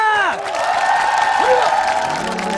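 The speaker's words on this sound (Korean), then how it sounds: "큰 박수로 맞아보겠습니다" Studio audience on a Korean variety show applauding and cheering as elderly women prepare to break roof tiles in a contest, loud continuous clapping and shouts, with a brief host voice and sliding tones over the crowd.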